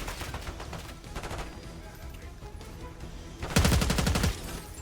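Gunfire in the video game Call of Duty Black Ops 6: scattered rapid shots under faint game audio, then a louder close burst of automatic fire toward the end.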